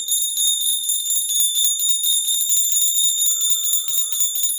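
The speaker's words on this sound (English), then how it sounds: "I'm going to use my bells to just kind of call in all the good healing energy." Hand bells rung steadily during a healing ceremony, a continuous bright shimmering ring that stays loud and even throughout, with no talking.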